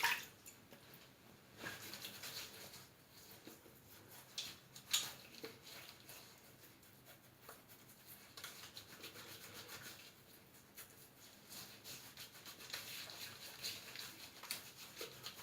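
A shaving brush works soap lather against skin with soft, faint, wet scrubbing and rubbing strokes that continue irregularly and close by.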